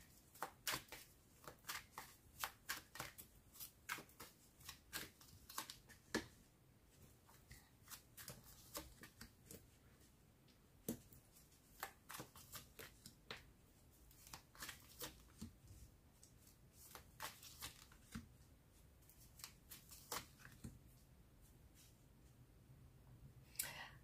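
Oracle cards shuffled by hand for a tarot reading, quiet close riffling and flicking in irregular bursts throughout.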